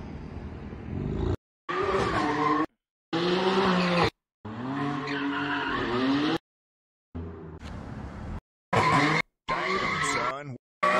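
Tires of a BMW M4 skid and squeal as the car spins donuts in a parking lot, loud bursts cut by abrupt gaps, with an engine roaring underneath and voices talking over it.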